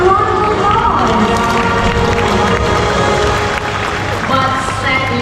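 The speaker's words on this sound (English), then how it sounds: "Let's give the hornbills a round of applause." Crowd applause with scattered cheering for hornbills at a bird show in a Singapore wildlife park, filling the whole stretch as a dense, steady wash of clapping and voices.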